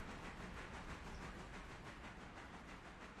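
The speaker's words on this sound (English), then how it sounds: "We'll check in on Mr. Passenger Train coming through the Governor's Island siding here" A passenger train rolls steadily past a siding in the Railroader game, a faint, even rumble and hiss with a soft repeating clatter of wheels.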